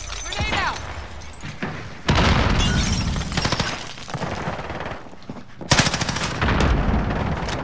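Grenade blast and rapid gunfire in a Call of Duty Rebirth match, loud bursts of automatic fire with sharp booming impacts around two and six seconds and dense battle noise between.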